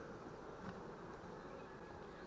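Honeybees buzz at beehives during an apiary mite treatment, a faint, steady, continuous hum with no talk.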